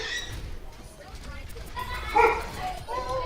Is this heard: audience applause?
no